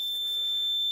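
A steady, piercing high-pitched electronic trouble beep for a smoke detector on a Simplex 4010 fire alarm panel sounds continuously for about a second, loud and close.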